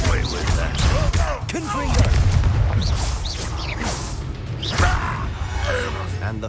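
In Hogwarts Legacy combat, the Confringo spell detonates in a string of sharp booming blasts and impacts that burst repeatedly over a busy layer of game effects, with voices heard in between.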